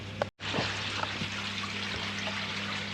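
A newly bought koi is tipped into a garden pond along with its bag water, a steady close pour and trickle running almost the whole time after a brief gap, with faint drips.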